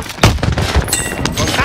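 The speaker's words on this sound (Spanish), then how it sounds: "¡Nos están disparando!" Gunfire in the video game Warzone, a few sharp close shots cracking in quick succession with a brief burst near the end.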